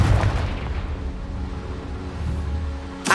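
A Confringo blasting spell in the video game Hogwarts Legacy sets off an explosion: a loud, deep boom with a low rumble that slowly fades, followed by a sharp burst at the very end.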